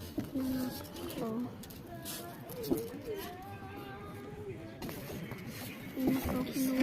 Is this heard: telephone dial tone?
no